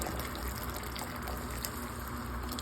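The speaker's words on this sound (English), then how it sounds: "And then very slowly add 1 cup of water." Cold water poured slowly from a cup into a pot at a rolling boil while cooking, giving a steady, continuous splashing gush that sits close and fairly quiet, with no talk over it.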